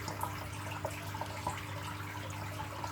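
Water runs steadily from a tap into a sink for washing up, a faint, even rush with a few soft splashes and knocks, and no voices.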